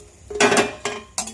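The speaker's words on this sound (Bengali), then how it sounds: "সেমাইটা ঢেলে দেওয়া হচ্ছে।" Dry fried vermicelli is tipped into a metal pan for milk semai, giving a few short clattering, rustling bursts with light metallic clinks, close by and fairly quiet.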